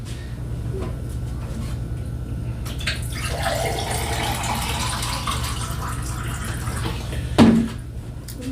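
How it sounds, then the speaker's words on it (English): Water running from a kitchen tap to fill a container, a steady broadband rush lasting several seconds over a low hum, ending with a brief clunk. "And get some water."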